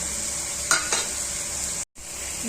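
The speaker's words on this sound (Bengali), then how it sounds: "মাছটা ভাজা ভাজা হয়ে গেছে। এখন একটু গুঁড়ো মশলাগুলো অ্যাড করে দেবো।" Katla fish frying in oil as ground spices are added, a close steady sizzle with a couple of brief stirring scrapes and a momentary break near the end.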